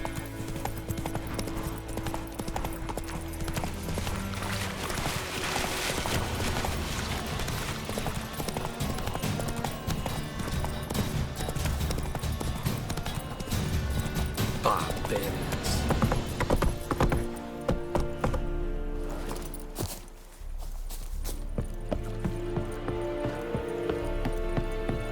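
A horse's hooves clip-clop steadily as it is ridden in The Witcher, a brisk even rhythm of close thuds over game ambience and music, with a short whinny near the middle.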